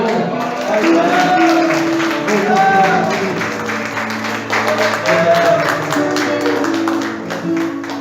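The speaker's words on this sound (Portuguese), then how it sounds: "Pode aplaudir o Senhor, irmão" A church congregation claps and applauds steadily for several seconds during an evening worship service, a dense, continuous crowd sound with music tones running underneath.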